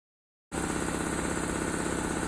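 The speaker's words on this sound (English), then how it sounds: "Our CA1 series electrically driven air compressors at approximately 8 feet average in the mid-70s for a DBA." A 5–7.5 hp CA1 series electrically driven industrial air compressor starts abruptly after a short silence and runs loud and steady with a constant rapid pulsing rumble, heard close with no speech.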